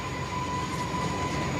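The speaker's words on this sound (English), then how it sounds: "the reason that the train is passing by slowly is out of respect" A train rolls slowly past at a railway crossing, a steady continuous rumble with a faint sustained tone, close and even throughout without voices.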